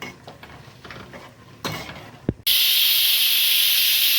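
Peanuts dropped into a hot pan for dry roasting until red, a few clinks and stirring scrapes, then a sudden loud, steady hiss that holds to the end.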